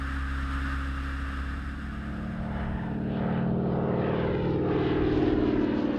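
A T6 Texan propeller training aircraft, a 1930s American fighter-pilot trainer restored by volunteers, drones steadily overhead in flight, its engine and propeller hum loud and continuous, swelling slightly toward the end.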